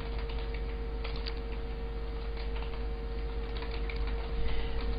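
Keys on a computer keyboard tap in quick irregular bursts while text is entered in the vi editor on Linux, close and fairly quiet over a steady electrical hum.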